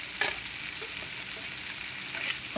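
Garlic and cut onions frying in hot oil for a green chili and tomato chutney, a continuous close, bright sizzle with faint stirring scrapes and no voices.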